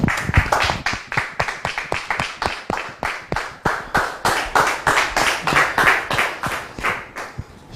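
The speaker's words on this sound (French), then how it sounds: "Je voudrais donc demander à notre public de bien vouloir la recevoir sous vos applaudissements." A television studio audience claps to welcome a guest, loud close rhythmic clapping in an even steady beat, about three claps a second, continuing for several seconds.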